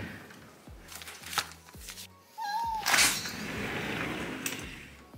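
Cats meowing at feeding time in a home kitchen, a single clear rising meow midway amid close handling and clattering noises, with a few soft knocks before it.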